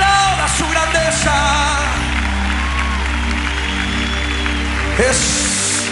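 A worship congregation claps along with a song, the applause blending into sustained music with singing and instruments, steady and fairly loud throughout.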